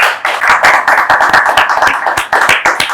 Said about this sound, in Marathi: टाळ्या झाल्या पाहिजे तिकडे